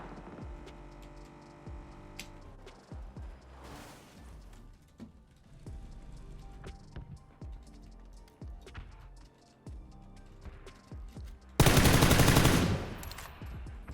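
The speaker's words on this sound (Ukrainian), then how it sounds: "Хто там де стріляється?" Gunfire in the battle-royale game PUBG, a run of sharp bursts and single shots at an even pace with a loud, dense burst of fire near the end.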